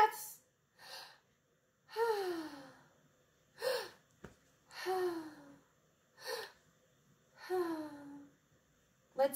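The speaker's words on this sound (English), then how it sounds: "Take 3 deep breaths." A voice takes a series of deep breaths, audible inhales and long sighing exhales spaced a couple of seconds apart, close and fairly quiet with no other sound.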